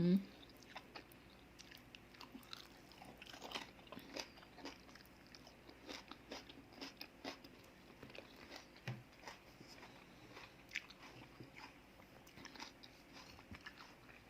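Someone chews crispy fried pine mushrooms close up, with irregular crunchy bites and mastication clicks continuing throughout at a soft, steady level.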